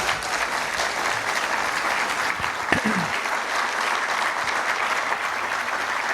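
Steady, dense audience applause fills the whole stretch at a consistent loud level, with one sharper clap or thump standing out near the middle.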